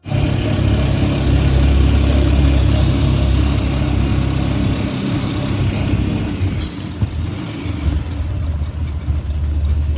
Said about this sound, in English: In the tuk-tuk.